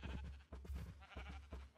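Sheep in the Minecraft video game bleat several times in short, quiet, separate calls, with no talk over them.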